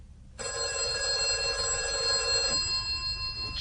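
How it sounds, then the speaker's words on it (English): A telephone bell rings loudly and continuously for about two seconds, then cuts off and a second shorter ring begins, close and clear in a quiet room. "The phone rang at 6:30."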